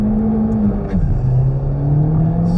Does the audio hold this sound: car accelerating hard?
yes